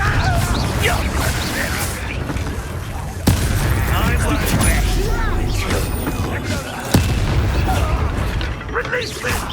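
Confringo fire-blast spells in Hogwarts Legacy combat crack out as two sharp, loud bursts a few seconds apart, surrounded by busy fighting noise and shouted voices.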